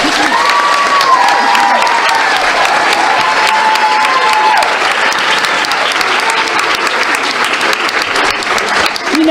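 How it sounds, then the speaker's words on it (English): A school board meeting audience claps for students, a full, sustained round of applause from a crowded room with a few cheers and voices mixed in, loud and even throughout. "Give them a round of applause"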